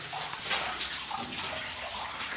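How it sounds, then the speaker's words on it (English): Water running down inside an abandoned gold mine, a continuous rushing splash and gurgle like a stream pouring onto rock, fairly close and steady, with no speech. "I hear a lot of water coming down."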